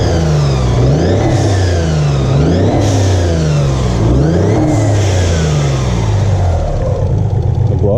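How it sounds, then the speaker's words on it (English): A Nissan Z32 engine with a struggling oil pump revs up and down repeatedly, loud and close, its rising and falling whine sounding almost supercharged, with blow-off valves hissing between the pulls. "the oil pump sounds like it's struggling to do its job"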